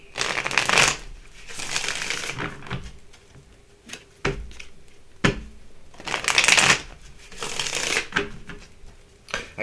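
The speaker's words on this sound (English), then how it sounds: "We're going to shuffle these cards here." Tarot cards being shuffled by hand in repeated bursts of riffling and sliding, close and fairly loud, with brief pauses and soft knocks between rounds and no talking.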